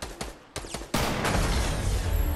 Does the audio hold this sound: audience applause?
no